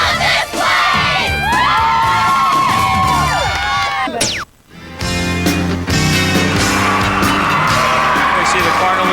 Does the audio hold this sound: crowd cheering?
yes